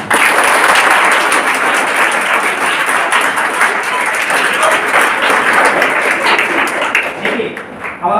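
Audience applause fills a motivational seminar hall in Chhatarpur, a dense, loud and steady wash of many hands clapping that carries on without letup and thins slightly near the end.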